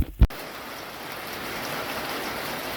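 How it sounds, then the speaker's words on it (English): A light rain shower falls outdoors, a soft, even hiss of drops that holds steady throughout after a brief thump at the start. "we're getting a good little shower right now"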